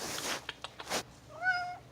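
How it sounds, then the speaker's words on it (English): A few soft rustles and taps are followed by a single short, rising cat meow, close by and fairly quiet. "My mom's cat."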